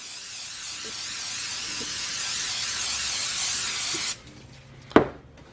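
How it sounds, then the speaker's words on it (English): A sustained close hiss of cooking oil sprayed from an aerosol can onto vegetarian meatballs for about four seconds, then it stops, followed by a single sharp knock. "Now I'm going to give this a spray with some spray oil so it'll brown nicely."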